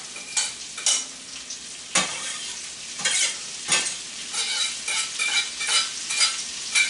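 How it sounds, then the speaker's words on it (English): Onions fry in a hot pan with a bright crackling sizzle, broken by several sharp bursts as they are stirred, close and alone without talk. "Go ahead and throw them in the pan."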